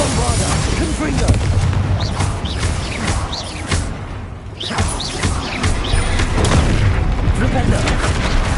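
Spell blasts from the video game Hogwarts Legacy go off in a rapid series of booming, crackling explosions and impacts, loud and dense, with a voice calling out over the barrage.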